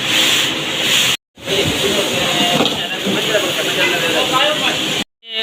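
A groundnut oil press machine crushes whole peanuts into oil, giving a steady, loud hissing and grinding rumble that runs continuously with two brief cut-outs; a voice talks over it.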